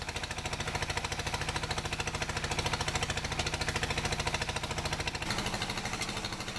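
A small water pump engine runs steadily at a soil gold-mining site on Sulawesi, a loud, rapid, regular mechanical chugging with a slight shift in tone near the end, heard alone with no voices.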